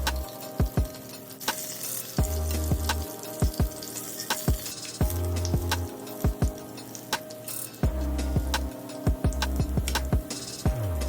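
Steady sizzling of vegetable spring rolls cooking in a Tefal ActiFry air fryer, with faint crackles over a constant hiss and occasional clicks and bumps, no voices.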